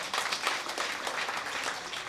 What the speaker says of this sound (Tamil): வெரி குட் நல்லா கைத்தட்டுங்க